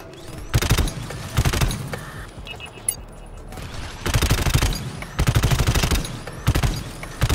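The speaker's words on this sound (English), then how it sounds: "Oh, shots." Repeated bursts of rapid automatic gunfire from the co-op shooter GTFO, loud and close, arriving in several separate volleys with short gaps and faint mechanical clicks between them.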